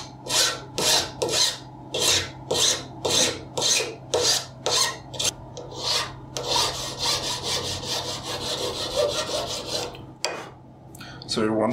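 A guitar nut is cleaned up with a file, giving a rhythmic series of close raspy strokes, about a dozen evenly spaced, then a longer continuous rub before a few final strokes.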